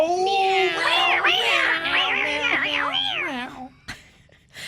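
A domestic cat lets out a long, drawn-out wavering meow lasting several seconds, loud and close, rising and falling in pitch before trailing off, followed by a brief click and quiet.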